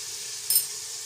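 Spice masala fries in a pan for chana dal, a steady close hiss of sizzling oil broken midway by one brief metallic clink of stirring.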